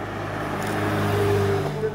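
A supercar engine revs and accelerates nearby on a hillclimb course, a steady rising drone with a higher whine building over a couple of seconds.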